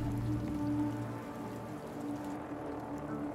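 Steady patter of rain in the video game Wuthering Waves, a continuous soft wash of drops over low droning tones.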